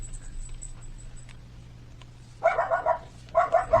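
A pet dog barks in short bursts at a home crafting table, two clusters of sharp barks close to the microphone after a stretch of quiet room hum.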